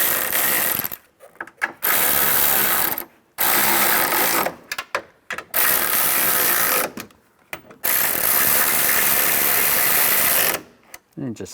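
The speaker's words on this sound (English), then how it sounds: "Now we'll tighten these down." A ratchet tightens the mirror mounting nuts on a 2007-2013 Chevrolet Silverado 1500, loud close bursts of rapid clicking cranking separated by short silent pauses.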